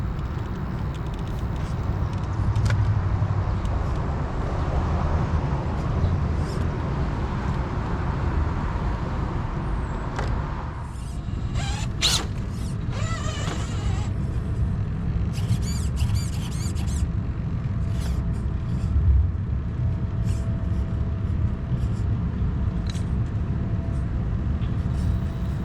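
A Redcat Ascent RC rock crawler fitted with an 1800kv outrunner motor and Sequre ESC crawls over a rock pile, its motor whining in bursts over outdoor background noise, with a brief voice.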